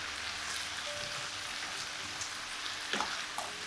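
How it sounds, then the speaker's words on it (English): Chopped bottle gourd tipped into a pan of tomatoes and oil, giving a steady soft sizzle with faint stirring clicks, close and alone without talk. "In goes my chopped gourd in there."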